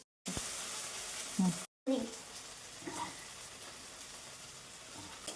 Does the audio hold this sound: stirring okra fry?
yes